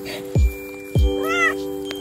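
A cat meows twice up close, two short loud calls about half a second apart, followed by a fainter drawn-out mew, with a steady electrical hum in the background and no voices.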